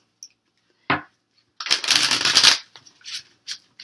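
Tarot cards being shuffled in a Pisces reading: a quick riffle, then a dense, rustling burst of cards lasting about a second, followed by a few lighter taps and card slides, close and clear with no talking.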